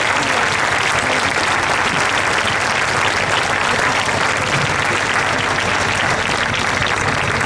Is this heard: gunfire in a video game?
no